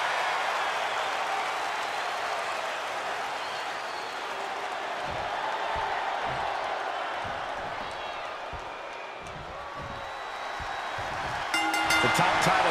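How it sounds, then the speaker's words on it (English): A capacity crowd at a WWE wrestling match for the Universal Championship keeps up a continuous roar of murmuring and cheering, with a few scattered thumps and claps, all heard at a steady distance. "This capacity crowd is waiting with bated breath."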